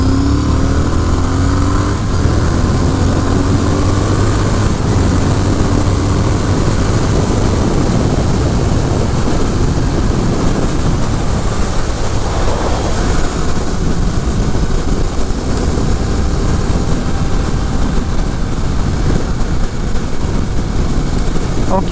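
A 2022 Triumph Speed Twin motorcycle cruises at highway speed. Loud, constant wind roar buffets the rider and masks a low engine drone, with no break for the whole stretch.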